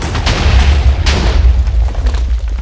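TNT blowing up in a video game, a loud booming blast with rumbling low end and a sharper burst about a second in, close and heavy.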